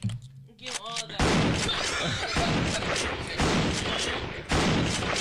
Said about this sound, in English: You want the gunshot?